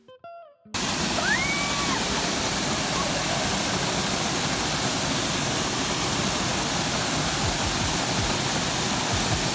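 Tangadan Falls in La Union roars as a loud, constant rush of falling water close by, starting abruptly after a brief moment of quieter sound and holding steady to the end.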